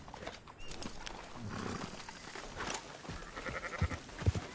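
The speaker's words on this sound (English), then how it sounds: "Marston, why don't you leave the sheep to me?" Sheep bleat amid hooves and farm ambience in the Western video game Red Dead Redemption, a couple of short bleats near the end over a busy, moderately quiet background.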